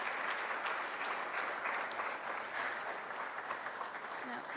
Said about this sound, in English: Please give another round of applause to my brother Asad Muhammad